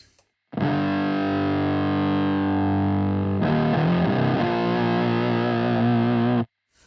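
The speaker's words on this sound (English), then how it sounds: "it's where you get more of the sort of thicker distortion sounds" A sustained, thick fuzz-distorted electric guitar chord, played through an AIB Custom FX Hexed Fuzz Distortion pedal, rings out loudly, then shifts to a new gritty chord before cutting off abruptly.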